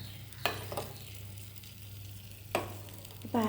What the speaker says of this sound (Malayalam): നെയ്യ് വെണ്ണ ഉരുകിയിട്ട് പൊട്ടലെല്ലാം നിന്നു